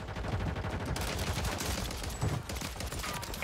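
Gunfire crackles through a shooter video game, dense overlapping shots packed across the whole stretch at a steady, loud level, with no speech.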